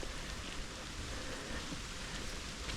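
Rain falling in a forest during Storm Floris, a dense, steady wash of raindrops pattering on leaves and ground, continuous and close with no voices.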